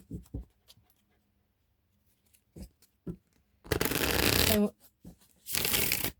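Playing cards are shuffled close by indoors in two quick, rustling bursts, one longer and one shorter, between soft scattered taps and near-silence, with a brief spoken word at the start.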